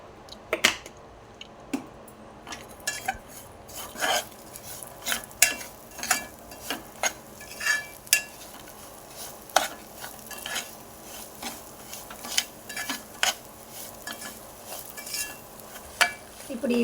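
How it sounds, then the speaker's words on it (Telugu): Rava roasting in oil for halwa is stirred in a pan, with regular scraping and clinking strokes of a spoon over a soft, low sizzle, close and fairly quiet. "ఇప్పుడు ఈ విధంగా వేయించుకోవాలి ఫ్రెండ్స్"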